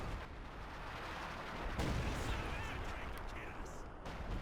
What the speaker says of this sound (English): The artillery piece is firing.